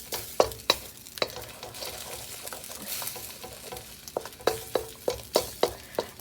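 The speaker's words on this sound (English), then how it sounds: "make sure, see, I'm scraping the side of the pot" A metal spatula stirs and scrapes against the side of a pot of Chinese fried rice frying over a high flame, giving repeated sharp clanks and scrapes over a steady sizzle, close and fairly loud.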